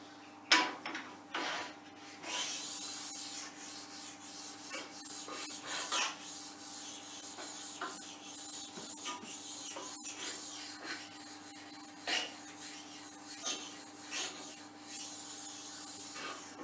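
A sharpening stone is rubbed back and forth over the bed of a metal-cutting centre lathe, making repeated soft, gritty scraping strokes at an even rhythm, close but quiet, with no voices.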